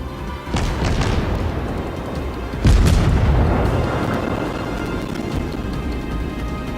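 Naval gunfire booms and shell impacts in the World of Warships video game, a low rumbling blast about a second in and a heavier boom near three seconds, over continuous engine and sea rumble.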